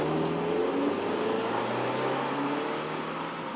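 Subaru Impreza with a two-litre engine pulling away and accelerating, a steady engine drone with rising tonal whine, close and continuous throughout with no talk.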